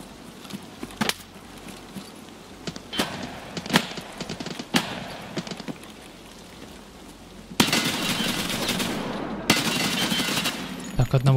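Gunfire in the video game Escape from Tarkov: scattered sharp single shots, then longer bursts of rapid fire, heard at moderate level over game ambience.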